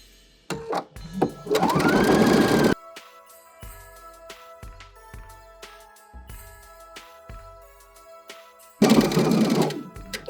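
Sewing machine back stitching the end of a seam on an upcycled fabric gift bag, two loud, steady bursts of rapid stitching near the start and end, with quieter clicks and handling of fabric and scissors between.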